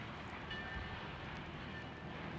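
Rumble of a train rolling along the tracks in an animated film, a steady, continuous low roar with a faint high whine, filling the whole stretch without voices.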